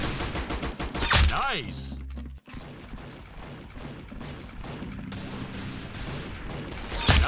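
Gunfire in a multiplayer shooter video game on an Arsenal server: dense rapid shots and loud cracking bursts fill the whole stretch, with a brief dip in the middle and a short excited spoken exclamation over the shooting.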